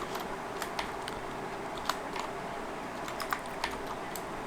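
Fingers type on a computer keyboard while entering product details into a web form, a scattered series of light, crisp key clicks at an irregular pace over a faint steady room hiss.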